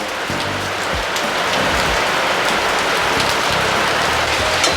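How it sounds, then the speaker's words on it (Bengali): Heavy rain pours down outdoors in a steady, dense hiss that stays loud and unbroken throughout, with some low rumbling underneath and no talking. "বাইরে প্রচণ্ড বৃষ্টি হচ্ছে।"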